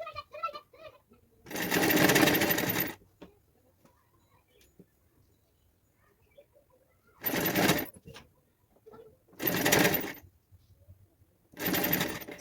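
Four short bursts of a sewing machine run a plain blouse sleeve seam in half-inch stretches, each burst separated by quiet pauses, close and fairly loud.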